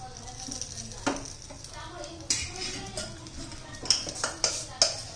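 Spoonfuls of potato bhaji filling dropped onto idli batter in a steel idli mould, with close metallic spoon clinks and scrapes, sharper taps near the end, over a faint steady background hiss.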